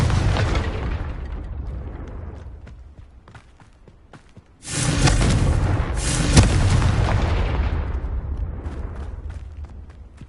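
A Confringo fire spell in Hogwarts Legacy bursts into a loud, close booming explosion that rumbles on for several seconds, following a quieter fading blast and scattered crackles.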